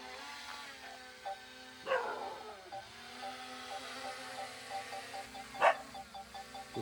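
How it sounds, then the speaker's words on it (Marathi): A dog barks twice in a Konkan village in Maharashtra, distant and fairly faint, the barks spaced a few seconds apart over a steady tonal background hum. "कुत्रा भुकतोय कुत्रा भुकतोय"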